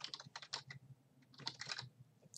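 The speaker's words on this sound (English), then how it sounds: "So what you're going to do is just type your IP address." Typing on a computer keyboard: quick bursts of close, crisp keystrokes in two clusters separated by a short pause, faint in level and with no talking.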